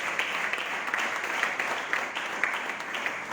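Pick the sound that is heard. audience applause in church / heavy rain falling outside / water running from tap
audience applause in church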